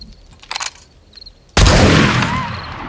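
A gunshot goes off in the survival video game 7 Days to Die: one loud sharp blast with a long booming tail, coming after a second and a half of quieter game sounds.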